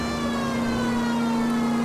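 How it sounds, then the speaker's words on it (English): An old-style police siren in the LA Noire video game wails with a steady, loud sustained tone that holds nearly unchanged throughout, with no talking over it. "I love these old sirens. They make such a interesting noise."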